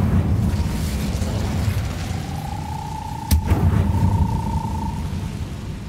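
A fire spell bursts in Hogwarts Legacy as a sudden loud whoosh-boom over a rumbling game soundscape, with a sustained magical tone ringing for a few seconds around it.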